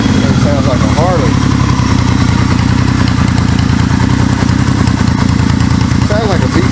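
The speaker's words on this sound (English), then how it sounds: "Sounds like a V-twin." A cold 1979 Yamaha XS850 Special engine idles loudly and steadily with a deep, lumpy rumble, and a voice talks faintly beneath it.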